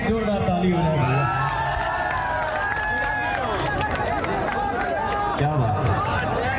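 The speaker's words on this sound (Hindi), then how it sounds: "इस भाई के लिए एक जोरदार ताली हो जाए भैया।" A large crowd at an election nomination rally in Karakat cheers and whoops loudly, with excited voices shouting over one another in a dense, continuous roar.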